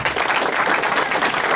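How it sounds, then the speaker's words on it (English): A crowd applauds after a Hare Krishna kirtan at an ISKCON temple in Milton, a loud, continuous wash of many clapping hands with no pauses. "So a big applause for all of you,"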